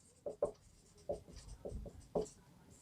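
A pen writes a maths formula by hand on paper, heard as soft, close scratching strokes in short bursts separated by brief pauses, quiet and with no speech.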